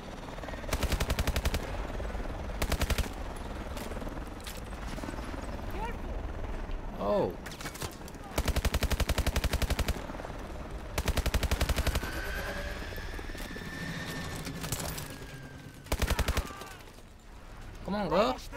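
Automatic gunfire bursts from the Call of Duty: Advanced Warfare campaign mission Utopia, several loud rapid volleys spaced across the scene with game soundscape between them and a voice talking over parts.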